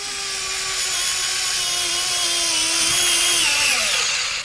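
Craftsman gyroscopic screwdriver driving a screw into a piece of wood, a steady close motor whine that holds its pitch, then drops and winds down as the screw seats and the tool stops at maximum torque.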